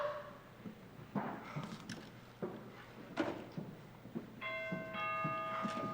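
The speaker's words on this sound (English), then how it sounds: "That's the doorbell, dear, not the telephone." A two-tone electronic doorbell chime rings near the end, its steady tones sustained over background clatter and faint room noise, during a stage play.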